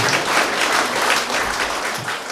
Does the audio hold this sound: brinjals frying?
no